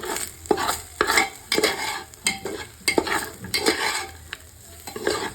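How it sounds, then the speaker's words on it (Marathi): Spoon scraping and stirring spice-coated rice in a pan for pea pulao, rhythmic strokes roughly every half second over a soft sizzle, close and clear with no talking. "आता व्यवस्थित हे मसाले ह्यामध्ये आपल्याला मिक्स करून घ्यायचे।"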